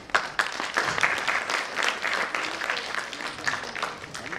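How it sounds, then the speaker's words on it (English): An audience at an annual school function claps in sustained, dense applause that swells and stays loud throughout, with faint voices mixed underneath. "Just give them a round of applause"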